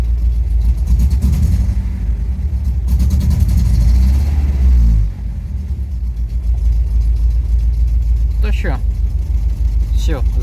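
An Opel C20NE engine with a misfire idles with an uneven, loping low rumble, close and loud, dipping briefly midway before settling into its rough, stumbling rhythm, with someone talking over it.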